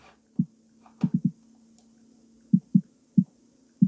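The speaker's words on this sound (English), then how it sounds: "I'm soloing the kick." A trap metal kick drum plays soloed in Reaper, filtered to 200 Hz, as dull thuds in an uneven beat pattern, some in quick pairs and triplets, over a faint steady hum.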